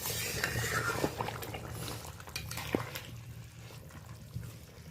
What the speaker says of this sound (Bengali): তরকারিটা বেশ ভালোভাবে ফুটে গেছে, একটু হালকা করে আমি নেড়েও নিলাম